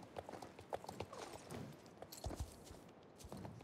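Horse hooves clip-clop in the online game Star Stable as the horse walks at an even pace, close and fairly quiet. There is no speech during the steps.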